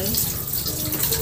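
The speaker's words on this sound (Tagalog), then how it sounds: "Pagkatapos nating balatan itong patatas, hugasan natin." Peeled potato being washed under a running tap, a steady close rush of water splashing continuously, with speech faintly present beneath it.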